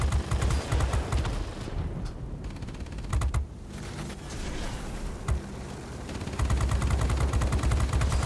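Rear gunner's machine gun chattering from a warplane in World of Warplanes, rapid bursts over a steady engine drone and mechanical creaks, with the firing starting and stopping in short stretches.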